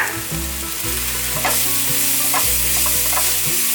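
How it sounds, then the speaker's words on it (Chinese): Vegetables stir-fried in a wok with rose salt, sugar and pepper: a loud, close sizzle broken by repeated spatula scrapes and tosses in an uneven rhythm, with no voices. "把调味料炒均匀。"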